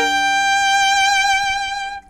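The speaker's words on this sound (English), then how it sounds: "So if I slow it down and play the three-note chord," A three-note chord bowed slowly on a string instrument, sustained and rich with a gentle swell and wavering tone, held for about two seconds before the bow lifts and it stops.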